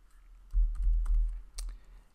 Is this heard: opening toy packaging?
no